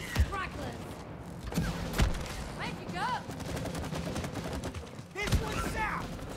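Scattered gunshots and impact booms in the co-op game It Takes Two ring out amid busy game effects, several sharp hits spaced across the stretch, fairly faint, with people talking underneath.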